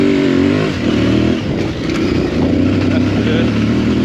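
An Aprilia Tuareg 660 adventure motorcycle pulls hard from low revs, its engine note climbing and then droning on under loud rushing wind from an onboard position.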